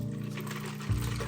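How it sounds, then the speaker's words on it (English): Hot coffee poured over a full, large cup of ice, a steady liquid pour with a brief thicker splash near the end. "And then get a full giant cup of ice and pour the hot coffee over the top."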